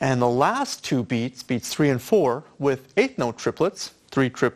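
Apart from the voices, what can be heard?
None of the usual background noises is heard.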